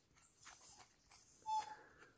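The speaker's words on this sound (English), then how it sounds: "The dog wants to play with the ball that's on the cabinet" A dog whimpers in short, faint yips and whines at a ball resting on a cabinet, two brief bursts with a louder high whine near the end, in a quiet room.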